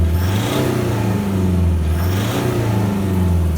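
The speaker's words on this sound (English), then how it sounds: "driving, light acceleration all the way through the 2000k range" A car engine pulls under light, steady acceleration around 2000 rpm during a diagnostic test drive, a continuous mid-pitched hum with gently rising and falling tone, close and fairly loud with no talking.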